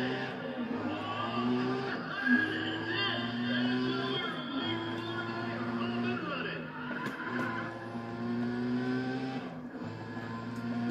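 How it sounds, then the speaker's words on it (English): Steady engine drone from a Nissan GT-R in the Need for Speed ProStreet racing game, with layered harmonic tones rising and falling through gear changes and brief skid-like swells. It plays continuously at a fairly even loudness. "Why is this car going to drift all of a sudden?"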